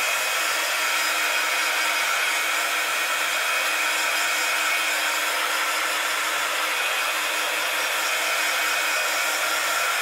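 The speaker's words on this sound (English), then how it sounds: "My heat gun smells a bit burny, so hopefully I won't have a fire on camera." A heat gun blows hot air in a constant, even hiss at moderate loudness, running steadily on its own with no breaks and no voices.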